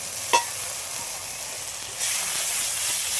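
Ground spice paste hits a hot pan for a live gule fish curry, with a brief splat followed by a steady broadband sizzle that swells louder and brighter after a couple of seconds, close and continuous.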